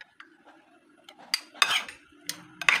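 Utensil clinks and scrapes against a bowl while tanigue kinilaw is mixed with salt, pepper and calamansi, with several sharp, close metallic taps and a rustling stir between them, fairly quiet overall.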